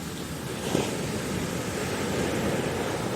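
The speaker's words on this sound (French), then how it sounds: "Les vagues déferlent en rouleau." Ocean waves break and roll onto the shore in a continuous, wide wash of surf with a soft swell partway through, steady and full, with no voices.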